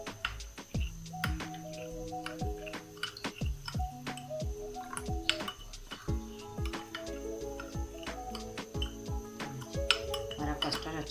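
Custard powder is stirred into a small bowl of milk with a spoon for a milk-based bread ball dessert, producing close, irregular clinks and wet sloshing taps against the bowl with no voices.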